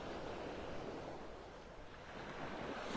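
Ocean surf washes steadily onto Vanderbilt Beach in North Naples, Florida, a continuous broadband roar with a light wash of wind, no voices and no clear breaks between waves.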